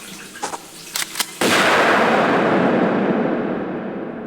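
A gunshot from Tomb Raider II lands as a single loud blast that keeps ringing and fades slowly, following a few short, quieter sounds.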